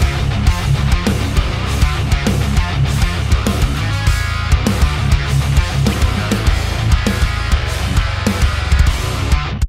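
A programmed MIDI bass riff played on the Eurobass 3 virtual instrument, rigid and robotic in feel, runs loud and steady for about ten seconds with evenly repeated plucked attacks in a tight rhythmic pattern.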